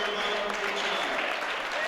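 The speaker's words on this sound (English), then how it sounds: "a nice round of applause" Round of applause in a hall for a female powerlifter after her bench press attempts at a powerlifting meet, a steady even wash of clapping that stays level throughout with a faint murmur of voices beneath.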